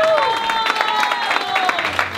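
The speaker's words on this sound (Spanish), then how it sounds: "Aplausos para esa pareja." Wedding guests applauding the couple after their vows, steady clapping from a crowd mixed with a sustained musical tone and some voices, fairly loud and continuous through the short stretch.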